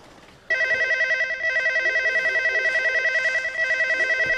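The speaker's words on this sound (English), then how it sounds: "my freaking phone's going off" A mobile phone in a Halo 3 machinima starts ringing abruptly after a quiet moment, a loud close electronic trill that pulses rapidly and steadily, in repeating bursts with brief gaps between.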